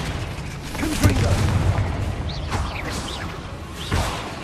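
A Confringo explosive spell goes off in Hogwarts Legacy, a deep booming blast with whooshing bursts amid chaotic combat effects, several impacts across the moment with voices briefly heard.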